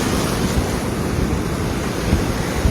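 Ocean surf washing onto a shore, a steady loud roar of waves mixed with wind buffeting the microphone, with no voices.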